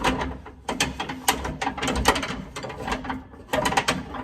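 A spare tire winch rod is turned to raise the chain under a vehicle's bumper, giving bursts of close ratcheting clicks and metallic gear clatter in uneven groups with short pauses.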